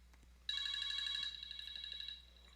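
A phone ringtone sounds alone at moderate distance: a steady electronic tone that starts abruptly, plays a bright tonal ring for under a second and then continues a little softer before stopping.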